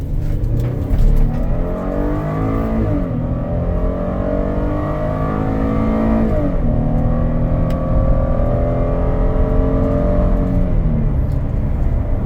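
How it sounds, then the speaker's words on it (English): A Ford Police Interceptor Utility accelerates and drives, its engine loud and close with rising pitch sweeps as it climbs through the gears, no talk over it. "Runs and drives great. Gets up and goes just like it should."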